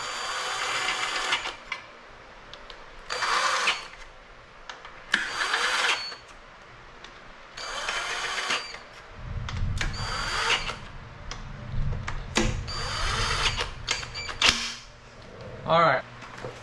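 A power tool used as a speed wrench on a 1963 Corvair whirs in repeated short bursts, close and loud, separated by brief pauses, with a rumbling stretch partway through.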